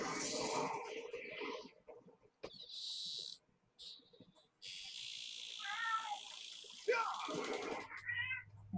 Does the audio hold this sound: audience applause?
no